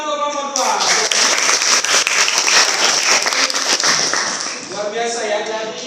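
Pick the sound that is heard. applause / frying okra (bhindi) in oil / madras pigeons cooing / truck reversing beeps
applause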